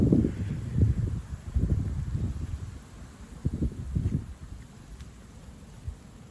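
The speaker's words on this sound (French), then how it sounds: "Ce que ça fait comme effet là, avec les rafales de vent" Gusts of wind sweep over fresh snow during a brief thaw-time snowfall, buffeting the microphone in low rumbling bursts that rise and fall irregularly, with quieter lulls between.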